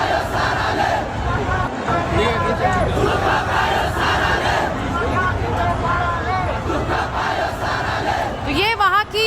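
A large crowd of young protesters demonstrating against the government in Nepal roars and chants continuously. Massed voices shout and cry out together in a loud, dense, unbroken din, with individual yells rising above the mass.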